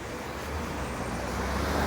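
A 929 Dufferin bus passes in Toronto street traffic, a steady broadband roar of engine and tyres that swells gradually as it nears, with no talk over it.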